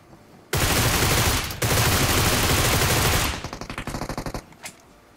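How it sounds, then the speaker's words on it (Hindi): Sustained burst of UMP submachine gun fire in a battle royale video game, a long loud dense volley followed by a rapid series of separate shots trailing off, with no talk. "लेकिन तभी यहाँ पे UMP चली।"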